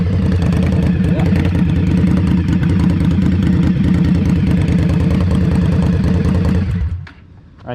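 An Indian Scout Bobber Twenty motorcycle engine idles loudly with a rough, lumpy rumble, close by, then cuts off abruptly near the end.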